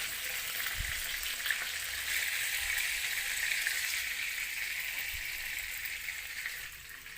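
Ground spice paste sautés in a small amount of oil in a pan, giving a steady, dense sizzle that holds evenly throughout with no voices.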